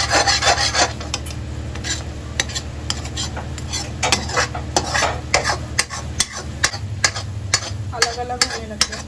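A coconut and jaggery mixture stirred in a pan for jaggery barfi, with repeated scraping and rasping strokes of a spatula against the metal in a steady rhythm over a low background hum.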